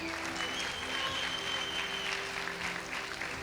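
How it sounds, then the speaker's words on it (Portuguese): A crowd applauding steadily at a church service, a sustained wash of clapping from many hands at moderate distance, with a faint voice in the background. "Aplauda o Senhor."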